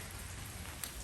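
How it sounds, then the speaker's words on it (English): Steady rain falls through a hurricane's opening hours after a night of storms, a dense, even hiss of drops on surfaces with one brief brighter spatter near the end and no voices. "So far, just rainy."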